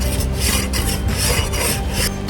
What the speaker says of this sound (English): Give that a scrape off just over here.